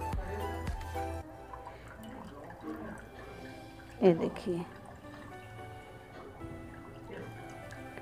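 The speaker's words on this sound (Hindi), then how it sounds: "इसमें के अच्छे से पानी मसल के हम निकाल लेंगे" Water drips and squishes out as chhena for rasmalai is squeezed in a cloth, a brief wet burst midway amid quieter trickles, with someone speaking throughout.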